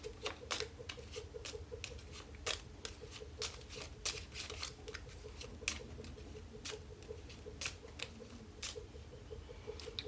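Rune cards are shuffled close up, a steady run of quick, crisp flicks and soft paper patter with no talking.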